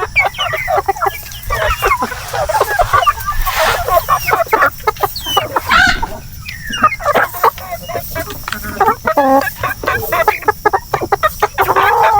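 Native chickens on a farm cluck and squawk continuously, several birds close by with overlapping calls, loud and busy.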